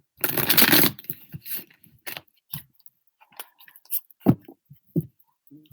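A burst of tarot card shuffling is followed by scattered soft taps and shuffles, close and intermittent, with no talking.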